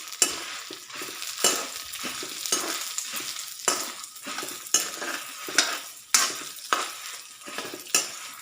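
Seeds and other ingredients for gongura pulihora fry in a pan, a gentle sizzle punctuated by regular rhythmic scrapes of a spatula against the metal, close and moderately quiet without speech.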